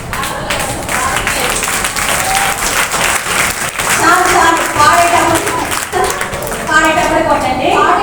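Children and adults clap steadily together at a Vacation Bible School gathering in a prayer house. The clapping is loud and continuous, with children's voices heard over it.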